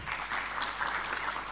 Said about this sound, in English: Director Dravu Ronald, a big hand clap